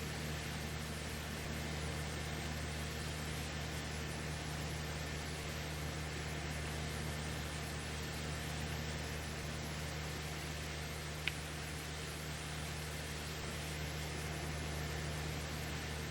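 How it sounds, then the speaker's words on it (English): Pressure washer cleaning a tractor in Farming Simulator 25, a steady unbroken hiss of spraying water over a constant low engine hum throughout, with no talking. "Let's give our tractor a nice little cleaning"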